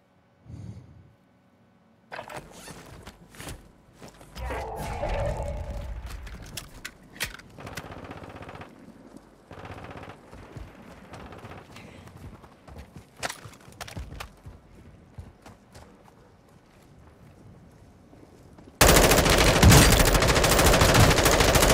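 Gunfire in Call of Duty: Modern Warfare II, rapid automatic bursts and single shots crackling at varying distances, ending in a loud dense burst of firing.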